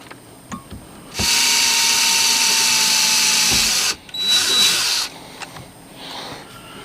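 A power drill bores through a metal bracket on a sixth-generation Ford Ranger, a loud whining run of under three seconds followed by a shorter second burst, close by and alone.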